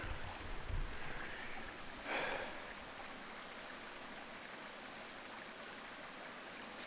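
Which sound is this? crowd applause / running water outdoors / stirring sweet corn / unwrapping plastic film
running water outdoors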